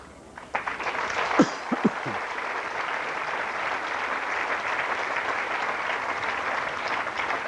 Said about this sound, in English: So that applause is not for my mother, that's for me.